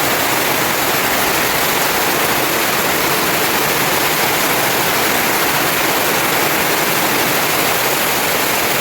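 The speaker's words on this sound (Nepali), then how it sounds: "दिनको त झोलै बग्छ यहाँनिर" During heavy rain, a rainwater stream rushes past a village house in Mirik, Darjeeling, giving a steady, loud, unbroken roar of flowing water close by, with no voices.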